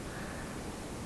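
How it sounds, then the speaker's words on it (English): A Google Home smart speaker plays white noise, a soft, even broadband hiss that stays constant and faint with no variation. "as you can hear, it's a white noise"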